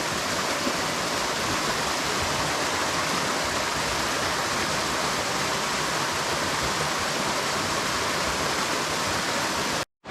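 White water rushing in a small wild trout stream, a loud unbroken roar of churning flow that cuts off abruptly at the end.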